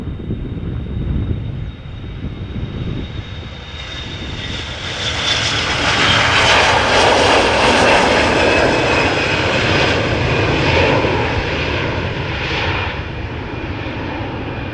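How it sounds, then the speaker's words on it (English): A CRJ 900 long-range regional jet on the move at Amsterdam Schiphol Airport, its engine roar swelling to a loud, broad rush with a rising whine and wind buffeting, then holding steady with no talk. "CRJ 900 going to Copenhagen in Denmark"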